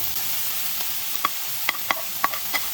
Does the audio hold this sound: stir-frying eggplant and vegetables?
yes